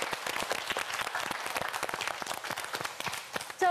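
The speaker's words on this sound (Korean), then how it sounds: "여러분 다시 한번 마지막으로 큰 박수 부탁드립니다." A studio audience at a Korean TV quiz show applauds steadily and densely, many hands clapping at once for several seconds, with no talking over it.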